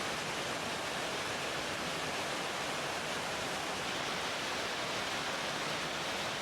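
Ripley Falls, a waterfall in Crawford Notch, New Hampshire, pours as a steady, dense rush of broadband water noise, close and constant with no pauses and no voices.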